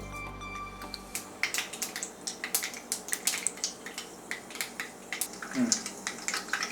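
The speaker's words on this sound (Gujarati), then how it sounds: "રાઈ તતડે છે." Mustard seeds crackling and popping in hot oil, a faint irregular run of sharp pops and spatters following a short low hum at the start.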